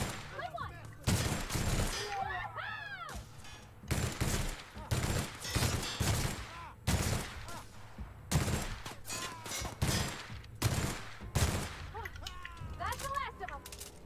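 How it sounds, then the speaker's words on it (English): Gunfire in the video game Outer Worlds comes as repeated sharp bursts of shots at irregular intervals, fairly close, with game sounds in between. "someone's shooting me"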